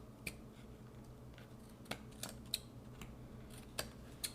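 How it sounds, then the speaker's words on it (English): Scissors trim card paper in a few sparse, quiet snips and clicks spread over a few seconds, close up at a crafting table. "we're going to just take our scissors"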